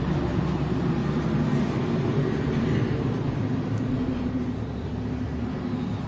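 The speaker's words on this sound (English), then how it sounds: "Stand by, wait for this truck to go by." A truck drives past outdoors during a law-enforcement briefing, a heavy, steady engine-and-tire rumble that holds loud throughout with no talk over it.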